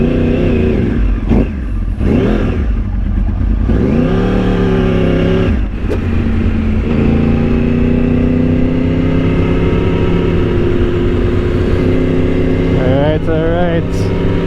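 Sport motorcycle with a Yoshimura slip-on exhaust accelerating hard, the engine note climbing and dropping through gear changes, loud and close with wind rush, and a rider's voice cutting in briefly.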